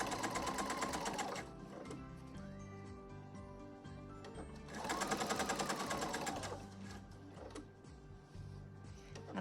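A domestic sewing machine couches trim onto a quilt, its needle chattering in fast, even bursts that stop briefly and start again, close and clear, with no talk.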